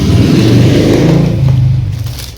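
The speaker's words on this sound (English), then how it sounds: "there's a noisy motorcycle outside" A noisy motorcycle passes outside, its engine a loud, rough drone that swells and then fades as it moves away.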